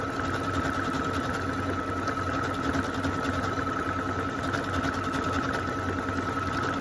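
A sewing machine stitches a locking stitch on a Christmas candles appliqué table runner, a steady, even mechanical hum with rapid needle pulses running without pause.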